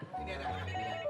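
A mobile phone ringtone plays briefly after a button press, a steady electronic melody heard close and fairly loud, with voices faintly underneath.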